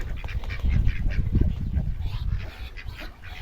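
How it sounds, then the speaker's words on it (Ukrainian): Small yellow ducklings peep and quack in a busy cluster, close and continuous, with rustling and shuffling underneath, on a Ukrainian village farm. "маленькі каченята."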